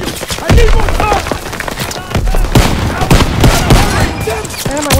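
Dense battlefield gunfire from the video game Call of Duty: WWII set in the Battle of the Bulge, loud overlapping rifle and machine-gun shots nearly throughout, with shouted voices mixed in.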